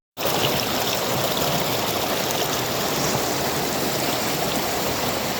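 Steady, continuous rush of the Cavinti underground river in Laguna, Philippines, close and fairly loud, with no pauses and no voices.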